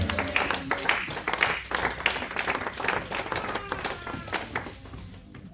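A church congregation claps and cheers in lively, uneven applause at a Sunday service, with scattered voices mixed in throughout before the clapping thins out at the end.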